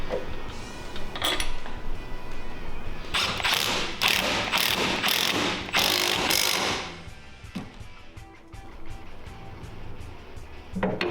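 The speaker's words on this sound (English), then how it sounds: "Install the included clamp bolts and tighten down." Ratchet wrench tightening the clamp bolts on a 105cc mini bike's fork clamps, a quick series of close clicking strokes in the middle, then quieter workshop handling noises.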